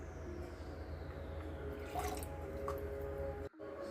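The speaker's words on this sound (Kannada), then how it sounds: "ಈಗ ಹಾಕುವ, ಒಂದು 1/4 ಗ್ಲಾಸು ನೀರು ಹಾಕಿ" Water is poured into a blender for a ragi and avocado smoothie, making a quiet, steady trickle with a soft splash partway through, heard alone without talking.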